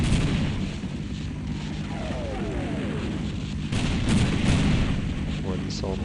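Muffled booming blasts and rumbling gunfire from the Half-Life video game, with a sustained low roar and crackle under someone talking in French during play.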